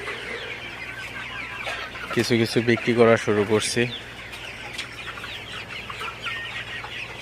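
Sonali super hybrid chickens on a Faridpur farm cluck and murmur throughout, close and moderately loud, while someone talks over them for a couple of seconds.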